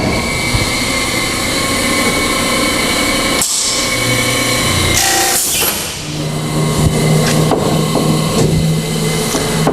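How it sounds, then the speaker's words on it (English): A door machine's drill motor bores into a door with a loud, steady whine and mechanical clatter, then spins down and clunks as the cycle ends. "I'm going to start the drill motor."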